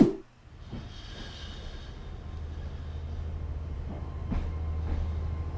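A train opens a song: a loud initial clunk, then a sustained rumble and hiss of a railway carriage rolling along with occasional metallic clanks, heard without voices.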